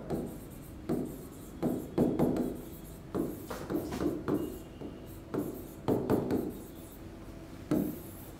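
Chalk or marker strokes on a board during a Hindi-language lesson on number systems, heard as short scratchy bursts that repeat in an uneven rhythm, close and fairly clear.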